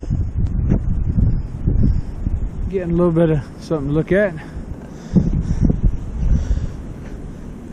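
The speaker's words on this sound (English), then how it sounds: "It's still windy as hell" Strong wind buffets the microphone in gusts on the Appalachian Trail in Georgia, a continuous low roar with someone talking over it much of the time.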